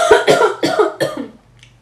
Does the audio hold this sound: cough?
yes